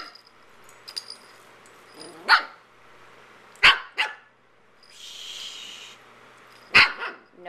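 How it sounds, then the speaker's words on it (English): A dog barks sharply a few times, close by, with quiet pauses and a brief whine between the barks. "No barking."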